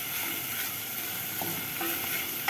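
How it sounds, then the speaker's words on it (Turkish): Peppers and onions sautéing in oil for a mushroom and vegetable soup, a steady close sizzle with a few faint stirring clinks, no talking. "Yağını salana kadar bu şekilde kavuruyoruz."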